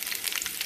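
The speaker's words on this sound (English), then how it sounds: "the oil is warm, so I'm gonna start adding all my meat to start frying it" Meat for aporreado, a traditional dish from Guerrero, Mexico, fries in warm oil in a pan, giving a brief crackling sizzle with dense, bright spatter up close.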